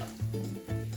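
Onion sizzling in hot olive oil in a pan, a steady frying hiss with stirring scrapes and low hum, close and fairly loud throughout a brief moment with no talk.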